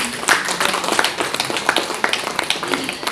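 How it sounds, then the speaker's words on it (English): Audience applause at an Indian book launch for the author, a thinner crowd of distinct individual claps, some sharp and close, forming an uneven moderate patter. "can we have a huge round of applause?"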